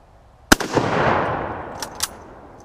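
A single loud Mosin Nagant rifle shot fired with surplus 54R ammunition cracks sharply, followed by a long rolling echo that fades over about two seconds, with a couple of fainter distant reports near the end.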